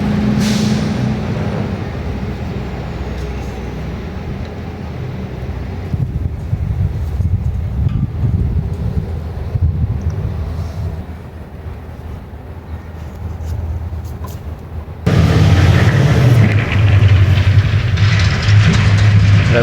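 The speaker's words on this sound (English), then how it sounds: "Yeah, there's kind of trucks here like all the time." Heavy trucks rumble past outdoors along a road, a steady low roar that swells louder and brighter near the end, with no talking.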